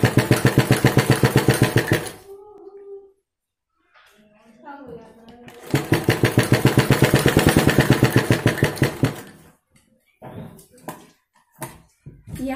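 A sewing machine stitches a kurti sleeve up close, running in two rapid, rhythmic bursts of several seconds each with a pause between, then a few short clicks and taps as the fabric is adjusted.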